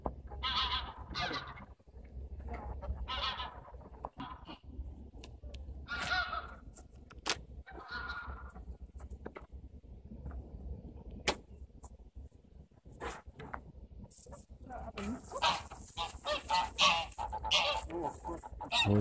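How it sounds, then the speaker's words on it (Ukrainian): Geese swimming on water in Munich give several loud, scattered honks up close amid faint outdoor background noise, with a burst of brighter calls toward the end. "Це гуси приплили"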